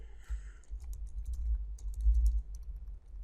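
Typing on a computer keyboard, a quick irregular run of close key clicks and taps in short bursts, fairly soft and without talk.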